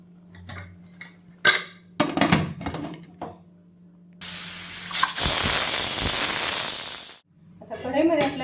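A kitchen pressure cooker gives one loud whistle, a steady rushing hiss of released steam lasting about three seconds, preceded by scattered clinks of utensils and followed by a voice speaking.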